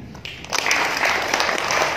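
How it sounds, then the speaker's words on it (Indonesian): Audience clapping at an industrial relations seminar, a brief burst that swells after a quiet start and holds steady for a couple of seconds. "Oke, tepuk tangan."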